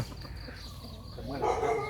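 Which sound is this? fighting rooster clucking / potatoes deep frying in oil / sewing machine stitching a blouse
fighting rooster clucking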